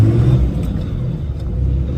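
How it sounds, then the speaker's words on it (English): A truck fitted with a freshly swapped G56 manual transmission drives along, giving a steady, loud low engine and road rumble from inside the cab with slight rises in revs and no talk. "It's so weird driving this truck as a manual now."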